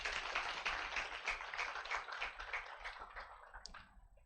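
Audience applause for faculty and staff at the Ahaki Institute students' orientation day: a dense, steady patter of many hands clapping for about four seconds, holding fairly even before thinning slightly toward the end.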